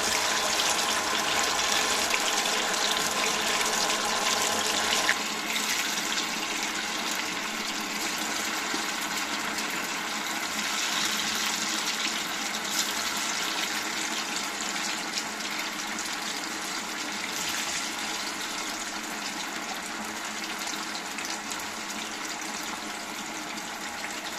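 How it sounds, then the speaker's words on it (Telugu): Chicken pakoda pieces frying in hot oil over a medium flame, giving a loud, steady, dense sizzle that keeps going without a break and fills the whole clip, with no voices. "ఇప్పుడు కాగిన నూనెలోకి మనం ముందుగా కలుపుకున్న చికెన్ ముక్కలని మీడియం ఫ్లేమ్లో పెట్టి వేసుకోవాలి"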